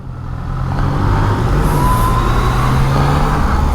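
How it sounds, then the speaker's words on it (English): A Yamaha XSR900 motorcycle rides through dense Manila city traffic, its engine giving a loud, steady drone with a rising hum, accompanied by broadband road and wind noise without speech. "cutting through traffic, this is why I got a bike"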